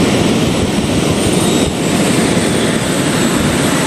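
Sharkan fishing drone motors spinning up at startup, a loud, steady broadband whir close by that holds continuously with no talk over it.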